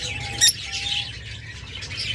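A green Fischer's lovebird gives a sharp, brief chirp close by, followed by quieter twittering over a low background hum.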